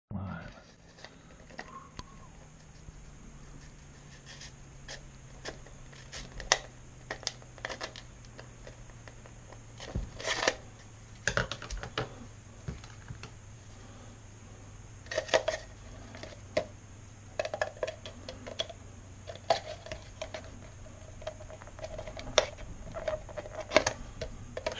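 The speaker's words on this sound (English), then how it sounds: "Scissors don't quite cut it neat enough" Scissors snip through a plastic bottle to cut spinner blades, a scatter of close, sharp clicks and crinkly cuts at irregular intervals over a quiet background.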